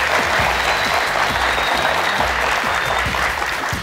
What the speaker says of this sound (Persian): نفرهای سوم، رامین و قاسم، بیم دوستا تشویقشون کنیم.